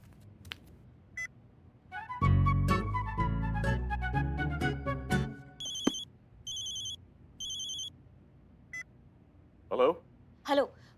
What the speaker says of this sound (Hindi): हम अभी फोन लगा के पूछते हैं।